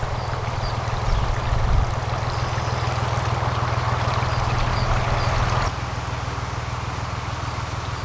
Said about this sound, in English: In lock 2, just gently going down again with the one paddle open.